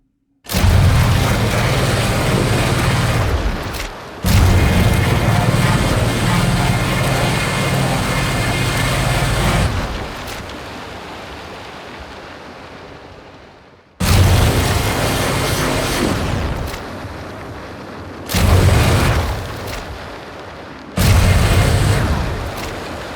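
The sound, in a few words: sound design take on the Sun Gun 3000 weapon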